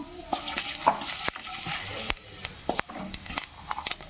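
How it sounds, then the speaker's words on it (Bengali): Five-spice seeds (panch phoron) frying in a little mustard oil for a potato filling, a crackling sizzle with scattered sharp pops and stirring scrapes, close and steady. "অল্প পরিমাণে সরিষার তেল দিয়ে দেবো। এবার দিয়ে দেবো 5 ফোড়ন"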